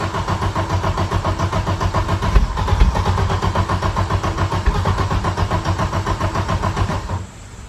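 A 1991 Audi 90 Quattro S2 with a big turbo cranks steadily, the starter churning in a fast, even rhythm for about seven seconds before cutting off; loud and close, no talk.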